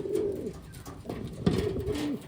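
Taiwan pigeons, a black check pair, coo close by in a few low rolling phrases, one after another, with no voices over them.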